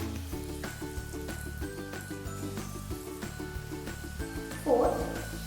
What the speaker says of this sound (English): Now our oil is heated up. Let's now place the cheese balls.